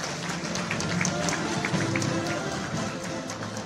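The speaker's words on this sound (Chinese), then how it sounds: "我们以热烈的掌声来欢迎他" A hall audience at the 30th-anniversary gala of a Taiwanese industry and commerce federation claps to welcome a presidential candidate, producing dense, steady applause that lasts throughout, with a voice faintly audible beneath the clapping.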